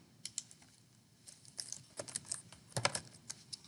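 Typing code for a database function on a computer keyboard: irregular, close clicks of keystrokes in quick bursts with brief pauses, alone and without speech.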